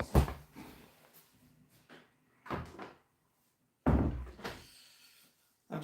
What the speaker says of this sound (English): I have to close the door on that because,